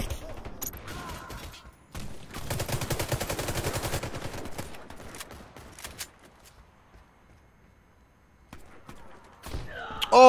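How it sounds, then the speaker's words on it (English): SMG fire in the first-person shooter Warface: Breakout: one loud sustained automatic burst of about two seconds, followed by quieter scattered mechanical clicks and footsteps, then a near rustle at the end. "I don't like this SMG"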